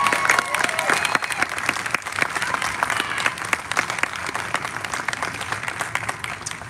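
A concert crowd applauds the singers of the US Army Band in a steady, dense wash of clapping that holds evenly from start to finish.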